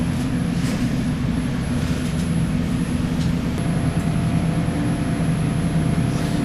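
A car engine fitted with a new aftermarket ECU idles steadily at constant RPM, a continuous low droning hum with no rises or dips, heard alone without talk.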